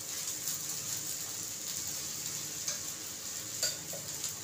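A light breakfast snack fries in about a spoonful of oil, giving a steady soft sizzle with faint stirring scrapes and a couple of small ticks from the pan, near and without speech.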